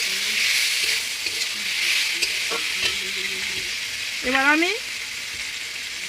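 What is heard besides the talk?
frying chicken and potato with ginger garlic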